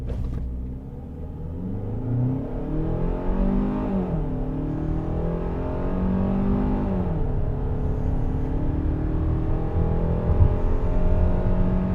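A 2023 Hyundai Santa Fe accelerates hard from a standstill to 60 mph, heard from inside as a steady engine drone that climbs in pitch and drops back at a couple of gear shifts, moderately loud and with no talking.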